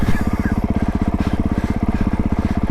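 A 2025 Honda CRF450R Works Edition dirt bike, tuned down like a CRF350R, idles or runs slowly on a snowy trail, a close, steady, rapidly pulsing single-cylinder thump that stays quiet and even throughout.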